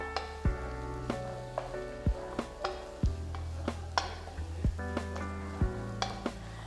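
Masala frying in a pan for a brinjal fry with tamarind leaves, a soft steady sizzle broken by several sharp spoon knocks and stirring scrapes at an irregular pace.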